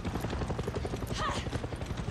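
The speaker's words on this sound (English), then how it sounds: "Bloody helicopter." A helicopter in the video game Far Cry 6 gives off a steady, loud rotor chop: fast, even beating that runs the whole time, with a brief higher whine partway through.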